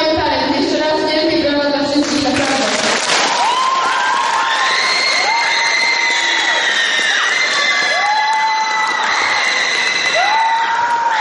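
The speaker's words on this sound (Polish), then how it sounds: "Jeszcze raz wielkie brawa dla wszystkich." A talent show audience cheers loudly, with children shouting and crowd noise sustained throughout, and scattered whistles and whoops rising above the din.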